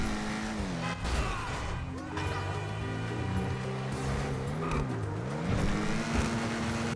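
The 5000 car driving in the GTA Online game, an engine that revs up and down through gear shifts, with tire squeals and skidding layered over the steady, close-up motor drone.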